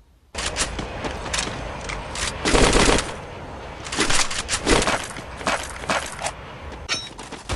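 An MP40 submachine gun fires in a video game in rapid, loud bursts of automatic fire, with several strings of shots separated by short pauses.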